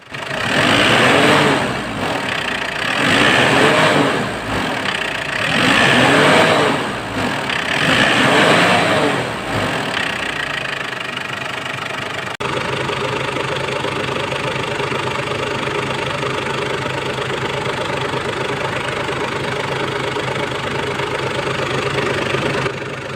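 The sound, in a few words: Ford Everest 2014 engine running and revving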